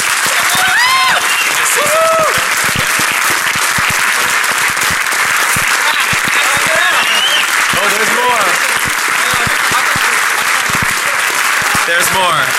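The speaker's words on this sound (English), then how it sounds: "So please give your strongest round of applause for Mudge and everything he's done for the security community." An audience at a DEF CON security conference talk gives loud, sustained applause with cheers and whoops rising through the dense clapping, a full crowd roaring continuously for the whole stretch.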